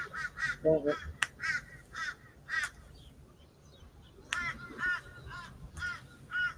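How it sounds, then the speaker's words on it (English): A crow caws repeatedly outside a house, harsh calls in clusters of two to four, moderately close and clear. A faint lower honk-like call briefly joins, and quiet background noise sits beneath. "You're hearing a crow."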